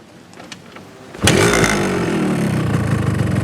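A Yamaha RX King motorcycle with a standard exhaust fires up after soft clicks, then settles into a loud, close two-stroke idle with a rough, buzzy rattle.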